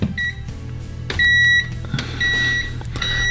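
A cheap Mastfuyi FY8233 multimeter sounds several short electronic beeps at intervals over a low steady hum, with a brief pause between tones and a longer sustained beep near the end.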